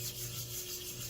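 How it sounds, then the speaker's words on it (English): A bass guitar body is wet-sanded by hand with P800 sandpaper in gentle circular motions, working into the corners. It makes a soft, continuous rubbing rasp at close range under a faint steady hum. "start sanding the surface right into these corners here"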